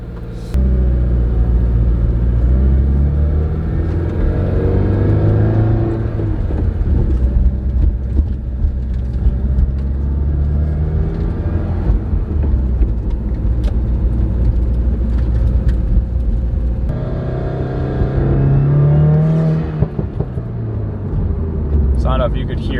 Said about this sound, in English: you clutch in after a hard acceleration and you get a lot of nice pops